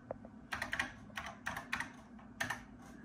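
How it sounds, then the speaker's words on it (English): Typing a command on a NABU PC computer keyboard, several clusters of crisp close keystrokes with short pauses between them, quiet and alone with no talking. "So let's just type in"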